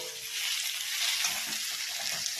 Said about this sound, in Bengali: ভাজা হয়ে গেছে, এবার আমি চিকেনটা দেব।